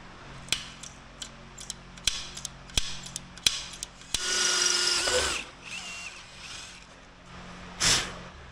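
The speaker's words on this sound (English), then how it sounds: "We're gonna start with a very simple method of just a drill bit." A series of sharp clicks and taps, then a short drill whine for about a second as a drill bit bores into an axle housing, followed by quiet handling noises and a brief final burst.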